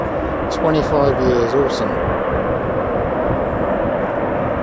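A Royal Netherlands Air Force Lockheed C-130H Hercules turboprop transport drones loudly and steadily as it takes off at Cambridge, while someone talks briefly over the engine roar.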